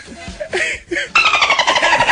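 A boat engine kicks in loudly partway through and keeps running with a steady, throbbing drone, after a few brief voices and a chuckle.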